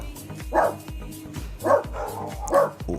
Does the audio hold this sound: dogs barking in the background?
yes